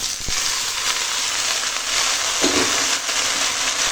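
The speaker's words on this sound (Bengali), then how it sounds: "দেখো এখন পেঁয়াজ লঙ্কা রসুনের ফোড়ন ভাজা হয়ে গেছে, আর এখন দিয়ে দেবো এই কেটে রাখা শাক" Chopped greens dropped into hot oil with fried onion, chili and garlic, a steady loud sizzle and hiss throughout with a brief stirring scrape midway, no voices.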